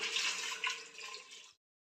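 Water is poured into a pressure cooker holding washed, salted taro, making a steady splashing gush for about a second and a half before stopping abruptly into silence.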